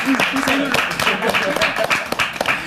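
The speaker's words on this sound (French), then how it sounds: "on peut applaudir Kalash, s'il vous plaît, pour ça, vraiment" Studio audience clapping on a French talk show, steady rapid applause running throughout while a host keeps talking over it.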